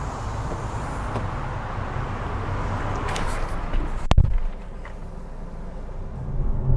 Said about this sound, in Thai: ตอนนี้ผมก็ จะลองขับให้ดูนะครับในโหมดต่างๆของ AMG นะครับ